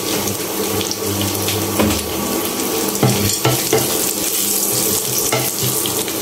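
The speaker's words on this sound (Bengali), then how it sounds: "একদম সুন্দর করে বাদামি করে বেরেস্তা টাইপ করে নিতে হবে" Onions fry in a pan until brown for a koloi shak (greens) dish, giving a steady, close sizzling hiss that runs unbroken from start to finish.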